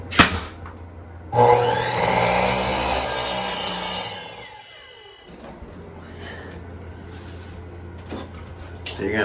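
A saw rips through wooden trim during a 1970s bathroom remodel, a close, loud rasping cut lasting a few seconds and then fading, with softer scraping and handling sounds after it.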